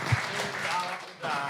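An audience applauds at a televised Indonesian political talk show, a dense wash of clapping that swells near the end, with a voice talking over it.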